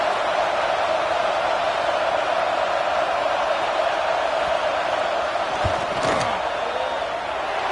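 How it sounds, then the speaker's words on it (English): Dense, steady roar of a large stadium crowd at a college football game between Ohio State and LSU as a field goal unit lines up, a loud continuous wash of noise with a brief thump near the end. "This crowd trying to do its part to get inside the kicker's head."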